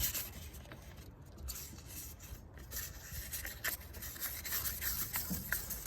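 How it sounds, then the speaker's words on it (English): Quiet, continuous wet sanding of a car headlight by hand, a soft gritty swish repeating back and forth with a steady texture and no voices. "Then you're going to slowly start sanding again."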